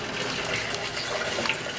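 Water from a bucket is poured into a trough, producing a close, steady gushing splash with a bubbly, bright texture that lasts briefly without any talk.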